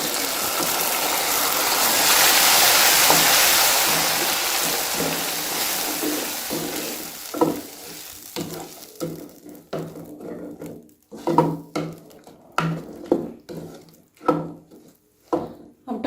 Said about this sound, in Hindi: अब इसके अंदर मैं टमाटर ऐड करती हूँ